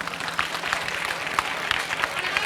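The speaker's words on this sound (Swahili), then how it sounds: "Makofi mengi sana kwao." Crowd applause honouring the Dar City basketball team at a Tanzanian official's event; a brief burst of scattered, moderately loud clapping.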